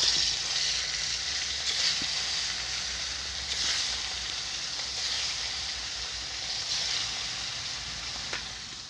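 Pieces of katla fish fry in hot oil, giving a continuous close, bright sizzling hiss that swells and eases slightly with occasional faint crackles.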